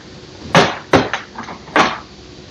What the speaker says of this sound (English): Remove the color cartridge.